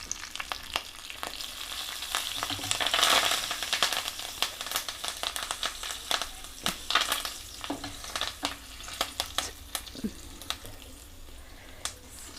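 Urad dal, a dried chilli and asafoetida fry in hot oil for sambar, a steady close sizzle broken by stirring scrapes and crackles as the pan is worked.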